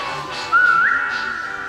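A short whistled tone in the video game Roblox rises and wavers briefly over a soft background hum, heard alone without talk.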